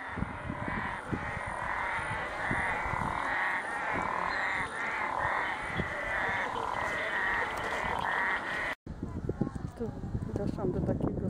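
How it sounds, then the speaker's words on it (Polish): Frogs croaking in a dense, continuous chorus beside a stream in Ghana, loud and close, with layered rhythmic calls running throughout and a brief cut near the end before the chorus resumes. "tylko żebyście usłyszeli rechot żab"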